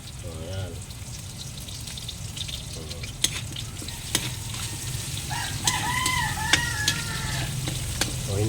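Shellfish sauté in a pan with Knorr cubes, a steady sizzle with occasional utensil clicks, while a rooster crows in the background and a voice talks now and then.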